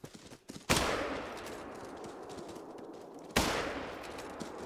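Gunshots in the hunting game Call of the Wild during a stampede: two sharp, loud single shots a few seconds apart, each trailing off in a long echoing decay, with no talking over them.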